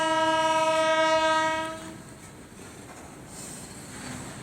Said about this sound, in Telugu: కానీ ట్రైన్ వెళ్తుంది పైనుంచి. గూడ్స్ రైలు వెళ్తుంది.